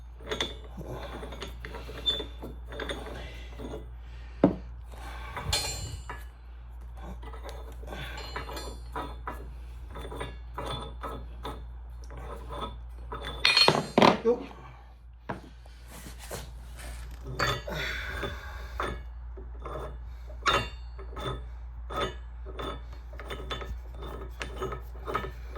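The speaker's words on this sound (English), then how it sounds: "So you just simply unscrew your bolts like that" Metal nuts being unscrewed off the bolts of a 131 RE rail joint display, a run of small clinks, scrapes and ratcheting clicks with a few louder knocks, close by with no talk.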